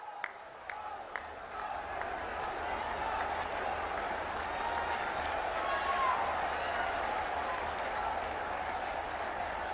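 Audience at a public event in Uttar Pradesh applauds: sustained clapping from a large crowd with a few louder claps at the start, swelling slightly in the middle, with no speech over it.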